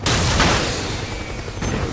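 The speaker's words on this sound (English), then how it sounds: "They only hear the explosion of the chopper." Helicopter exploding in Metal Gear Solid 4, a single loud burst with a rumbling, crackling decay lasting about two seconds.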